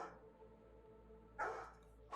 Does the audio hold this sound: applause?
no